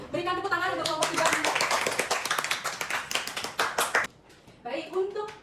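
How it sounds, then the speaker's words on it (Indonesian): Students in a classroom clap for a group that has just presented, a burst of dense, close hand claps lasting about four seconds. It stops abruptly, then a voice speaks. "Berikan tepuk tangan untuk kelompok 3."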